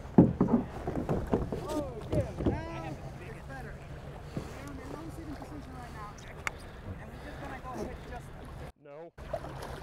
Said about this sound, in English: so while I'm paddling here, let's see